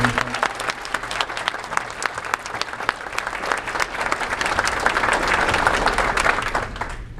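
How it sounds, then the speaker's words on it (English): An audience at a public meeting gives a round of applause, dense continuous clapping from many hands that builds slightly and holds steady, loud and full, then tapers off at the end. "so can we give her a round of applause?"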